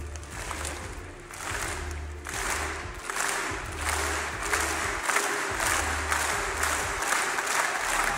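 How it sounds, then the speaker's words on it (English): Crowd at the Astralis vs. Na'Vi grand final of a CS esports DreamHack Masters event in Marseille roars with cheering and steady applause, a loud, continuous wash of clapping and shouts swelling in waves throughout. "The crowd are hyped."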